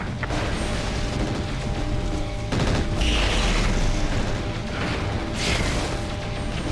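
Heavy weapons fire rattles against a player's mech in MechWarrior 4: Mercenaries, a dense, continuous roar of gunfire and mechanical clatter with louder booming bursts partway through, no voices.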